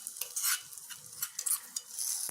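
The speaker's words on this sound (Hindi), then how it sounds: "अब इस तड़के फ्लेम को बंद कर दीजिएगा और तड़के को हम कढ़ी में डाल देंगे।" Hot garlic tempering is poured into a vegan spinach curry, giving short crackling sizzles and stirring bursts that rise and fade over a couple of seconds, with no voices.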